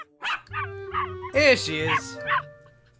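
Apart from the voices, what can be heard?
puppy whimpering and yipping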